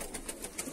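Pigeons at a Georgian loft of fighting pigeon breeds give a few soft, repeated coos, heard up close and alone over a short stretch.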